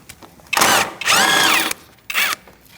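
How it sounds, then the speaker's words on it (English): A power tool spins a 10mm socket to back out a bolt on a 2008-2014 Mercedes-Benz during air conditioning condenser work, three short whirring bursts of rising and falling pitch separated by brief pauses. "Using a 10mm socket, we're going to take out this bolt."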